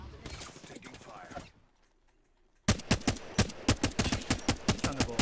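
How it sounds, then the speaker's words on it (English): Gunfire in the battle royale game Apex Legends: a dense burst of shots, a short quiet gap, then a rapid, evenly spaced string of loud, close gunshots. "Taking fire."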